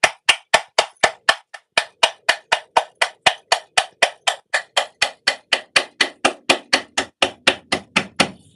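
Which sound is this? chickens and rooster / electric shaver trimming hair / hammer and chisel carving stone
hammer and chisel carving stone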